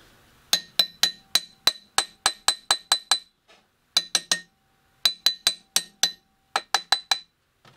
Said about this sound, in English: Tinny hammer.